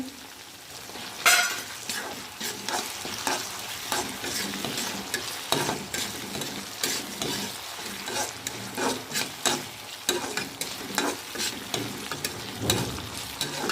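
Chopped tomato frying in a pan for a gourd and lentil dish, stirred with a utensil, giving a low sizzle under repeated scraping strokes and occasional clinks, close and without talk.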